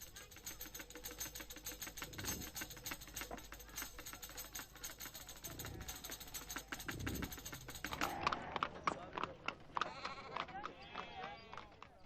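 Sheep bleat in brief calls at a May festival sheep market in a gypsy suburb, with a voice speaking over them and sharp clattering sounds.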